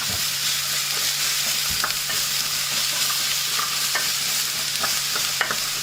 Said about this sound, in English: now we throw in all of our vegetables